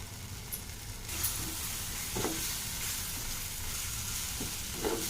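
Salt and chili powder are stirred into cooking tomato pickle, a soft, quiet simmering hiss broken by a few scraping strokes of a spoon against the pan.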